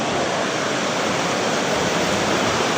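River water rushing close by in the Philippines, a steady, loud broadband roar that continues without a break.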